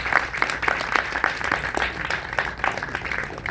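A crowd at a film event breaks into applause for the film's backer, a dense sustained patter of many hands clapping with scattered louder claps throughout, no talk over it.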